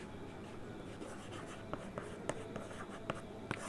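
A pen scratches out a sentence by hand during a simple grammar lesson, with soft continuous strokes and a few sharper taps as letters are finished. The writing is quiet and close, with no talking over it.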